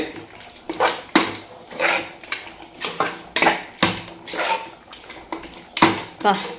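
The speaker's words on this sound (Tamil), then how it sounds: "மட்டன் துண்டுகளை போட்டுக்கலாம் நல்லா கிளறி விட்டு" Washed mutton pieces are stirred in a cooking pot for Tamil-style mutton biryani, with repeated clattering scrapes and knocks of the spoon against the metal pot in an uneven rhythm, close and fairly loud.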